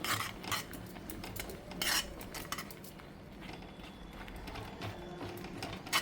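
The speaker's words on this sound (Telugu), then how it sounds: "రెండు చెంచాలు వేసాం ఇప్పుడు మనం ఒకసారి కలుపుకుందాం" A spoon clinks and scrapes against a bowl while stirring a homemade hair dye mixture in a kitchen, steady metallic taps with no talking.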